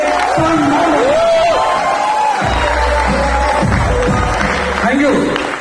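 Loud crowd applause and cheering at an awards stage event honoring a company MD and director, a dense wash of clapping and whoops with shouting voices over it and a sustained tone running through.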